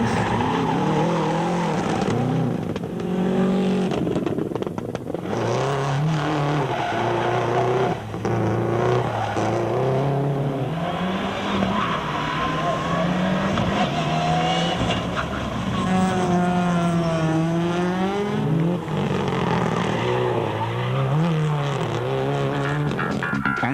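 Rally cars race flat out across treacherous gravel forest stages in the Longmore Forest during a 2005 Volkswagen rally, engines revving and shifting continuously, loud and close, with rising and falling pitch through the whole stretch.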